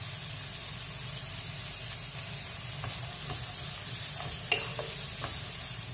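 Cabbage, carrot and capsicum being stir-fried for chicken fried rice, a steady soft sizzle with a few sharp clinks and taps near the end, no talk.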